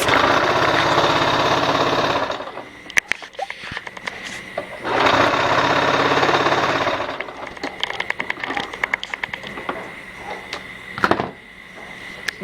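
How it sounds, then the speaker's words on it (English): A sewing machine stitching a strapless halter dress runs in two fast, loud bursts of rapid whirring, separated and followed by quieter handling clicks and fabric rustle nearby. "Eventually you'll be sewing so quickly."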